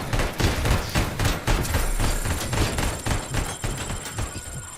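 Dense, rapid gunfire from the Robocop video game, continuous loud shots rattling in quick succession with a high electronic tone joining partway through, no speech.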